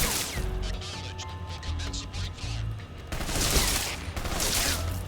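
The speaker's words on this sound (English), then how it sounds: "Requesting mortar support fire." Mortar support fire in Metal Gear Solid Delta, a run of loud, crashing blasts and bursts layered over game ambience and low rumble, with a couple of stronger broad impacts late on.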